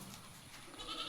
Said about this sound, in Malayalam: 3 മാസത്തോളം ചെനി നിൽക്കുന്ന ഫസ്റ്റ് പ്രസവത്തിൽ ഒരു മലബാരി ആട്